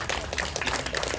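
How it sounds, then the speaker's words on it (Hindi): Hands clapping in applause from an audience at a Holi gathering at a Brahma Kumaris centre in Delhi, a steady dense patter of many claps throughout. "तालियां बजाएं"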